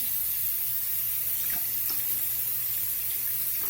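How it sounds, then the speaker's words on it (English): Water runs steadily from a tap while a makeup brush is rinsed beneath it, a constant faint hiss of flowing water with no talk. "And when I am rinsing it, I'm opening up the bristles to rinse."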